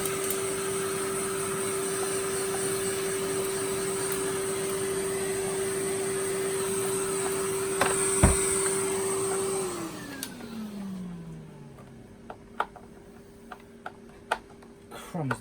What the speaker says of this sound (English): that could do with a little bit of a vacuum out, just to get rid of the crud